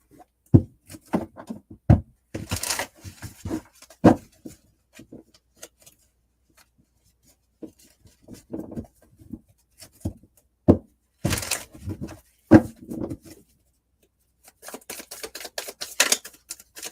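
Tarot cards are shuffled by hand in irregular bursts of crisp riffling and tapping clicks, with short pauses between runs. The sound is close and moderately loud, and no one talks over it.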